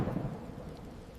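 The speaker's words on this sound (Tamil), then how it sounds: "ஒரு நாள் பலத்த மழை பெய்தது." Heavy rain with a low rumble of thunder in a children's story, a brief burst of storm noise that fades slightly.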